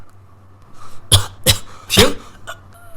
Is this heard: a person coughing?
yes